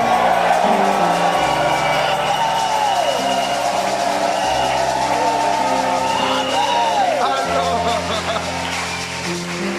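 Church congregation at a Pentecost service in Divo shouting and whooping with joy, a dense, loud, continuous crowd roar with rising cries, held steady throughout.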